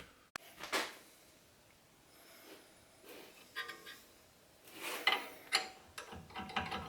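Ratchet wrench loosening the front brake caliper bolts on a 2010 Mercedes C300, heard close up as scattered bursts of clicking and metallic rattles separated by quiet gaps, with no talking.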